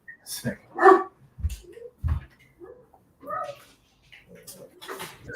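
Dogs bark in an echoing room with the door closed, sharp loud yaps and short whining cries coming in bursts between quieter pauses, with a voice briefly audible among them.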